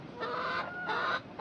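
Rooster clucking in short repeated bursts, fairly close and steady, with no talking.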